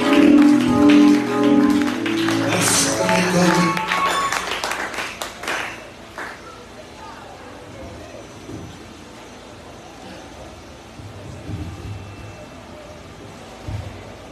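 Dense clapping from a church congregation fills the first six seconds, then fades into a quieter room with faint background noise.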